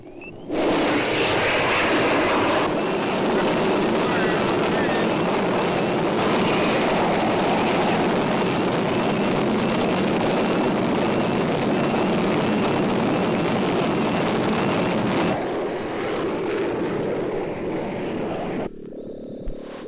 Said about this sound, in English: Y-12 detached and airborne. Firing rocket motor.